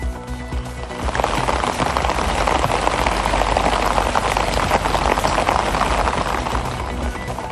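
Heavy overnight rain falling across districts in Tamil Nadu, a dense, steady roar of downpour that begins after a brief quieter start and stays loud and continuous throughout.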